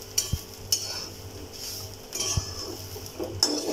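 Dried coconut being stirred and roasted in a pan, with a spatula scraping and clinking against the metal in a few distinct knocks over a soft, steady background hiss.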